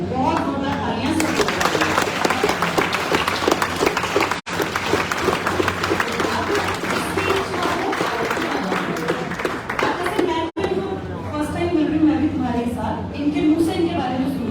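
A crowd at a village gathering bursts into loud, sustained applause, dense clapping continuing for many seconds with only two brief breaks, a voice heard faintly over it near the end.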